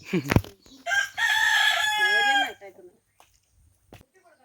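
A single rooster crows once, loud and close, a long rising-and-falling call in an otherwise quiet rural setting by a lily field, with a brief voice just before it.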